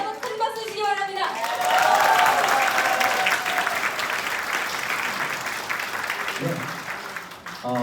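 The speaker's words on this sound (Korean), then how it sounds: "네, 다시 한번 큰 박수 주시기 바랍니다." A crowd at a political party rally breaks into loud, sustained applause that swells and then gradually tapers off, with a voice briefly heard at the start.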